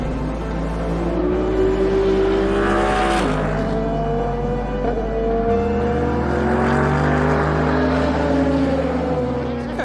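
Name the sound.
race paddock atmosphere with cars at Le Castellet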